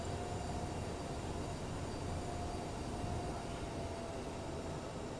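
Cirrus light aircraft engine in Microsoft Flight Simulator 2020, a steady broadband drone with a faint tonal whine, held at constant level throughout, without talk.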